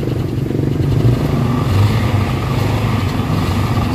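A Toyota Avanza engine with a black smoke problem revs steadily and loudly up close, a continuous rough low drone with mechanical clatter and no pauses.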